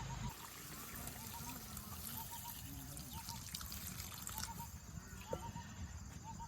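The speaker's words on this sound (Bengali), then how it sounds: "তরকারি একটু ঝোল দিয়ে দিই" Broth poured into a river fish curry as it cooks in oil in a village kitchen, giving a steady liquid trickle over a constant low background hiss, with faint chirps scattered throughout.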